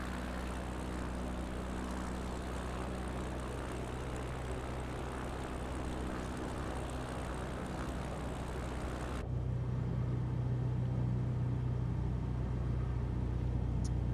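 A propeller airplane engine at takeoff throttle roars as a steady, dense drone inside the cabin, holding loud and then shifting to a deeper, smoother hum partway through.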